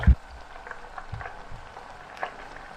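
An onion bhaji frying in hot oil, a soft steady bubbling sizzle at low volume after a brief thump as it drops in, with no voices over it.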